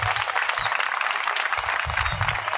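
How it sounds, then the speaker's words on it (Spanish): An audience at a children's graduation ceremony claps for the musicians, a fairly quiet, even patter of many hands with low-pitched thumps and rumble underneath. "os quiero pedir un aplauso súper fuerte para los músicos"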